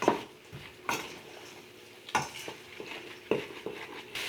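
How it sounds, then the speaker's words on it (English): A spoon stirs ground spices, including cinnamon and cloves, into softening onion in a pot for pumpkin black bean chili. Quiet, irregular scrapes and clinks come close up over a faint sizzle, with no talking. "And then just give this a really good stir."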